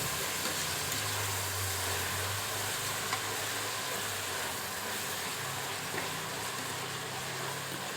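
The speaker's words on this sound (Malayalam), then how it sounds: "അതൊന്ന് നന്നായി വഴറ്റുന്ന വരെ നമ്മൾ ഇത് ഇളക്കി കൊടുക്കണം." Onions with salt sauté in a pan for Thalassery dum biryani, giving an even, close, continuous sizzle and hiss with faint scraping as they are stirred.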